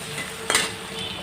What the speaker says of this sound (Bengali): তেল গরম হয়ে যাওয়ার পরে পেঁয়াজ আর কাঁচামরিচ দিয়ে দিলাম এখন এটাকে হালকা একটু ভেজে নিব